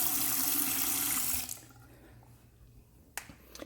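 Water runs loudly from the faucet into a bathroom sink and then cuts off, leaving a quieter gurgle of water draining down, with a couple of small clicks near the end.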